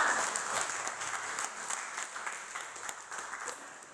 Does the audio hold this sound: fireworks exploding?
no